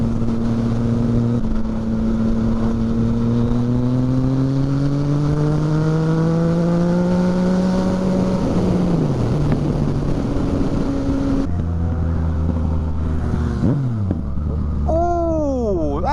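A passing XR9 Calf Racer motorbike, its engine note climbing and falling in pitch as it goes by, loud and close over the steady drone of the rider's own bike, with a second rising whine near the end.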